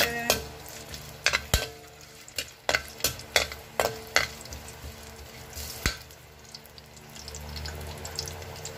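Ginger goes into a little hot oil in a pan for coconut-milk tilapia, sizzling softly while a utensil knocks and scrapes in a quick run of sharp clacks, which then thin out to a low fry.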